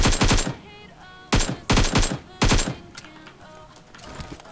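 Gunfire in PUBG Mobile: several sharp, loud bursts of rapid automatic shots in quick clusters, separated by brief quiet gaps, close and punchy.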